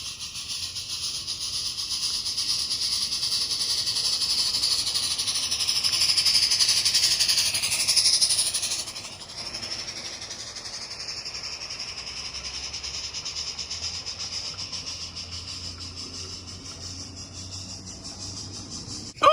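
A radio-controlled live steam model army train built from Cobi WWII sets runs steadily with a continuous hiss of steam and a faint rolling rumble, the hiss swelling then dropping partway through.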